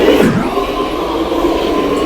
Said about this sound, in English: Multi-level cab sounds different.